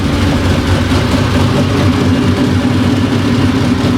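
A twin-turbo Ford F150 with brand-new headers runs at a steady idle, a loud, close, continuous engine rumble with no talking.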